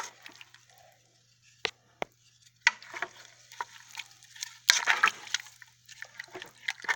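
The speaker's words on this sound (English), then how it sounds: "We're going to stir it together." Carnitas with spices being stirred by hand in a pressure cooker: irregular scraping and wet sloshing strokes, faint at first, then busier and louder near the end.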